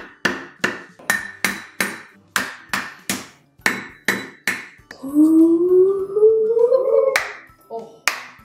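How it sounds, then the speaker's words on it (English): A coconut is cracked open in a kitchen with about fifteen sharp, evenly spaced whacks, then a pause filled with a bright drawn-out sound, then a few final knocks. "we're gonna crack this coconut"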